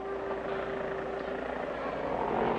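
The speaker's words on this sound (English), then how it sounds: "your attention is directed to the plane taking off" A propeller plane takes off in a cartoon, a steady, loud droning engine roar with a sustained hum that builds slightly toward the end.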